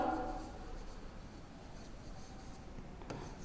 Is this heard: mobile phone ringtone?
no